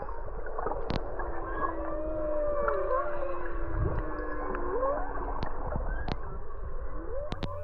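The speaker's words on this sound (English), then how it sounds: "in the winter months, you can actually hear the humpback whales singing underwater" Humpback whales singing underwater off Kaanapali, Maui, long gliding moans and whoops sweeping up and down over a constant watery hiss, with scattered clicks and pops, moderately faint and distant.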